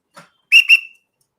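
A referee whistle gives a short faint chirp, then two sharp, shrill blasts in quick succession, close and loud with nothing else around.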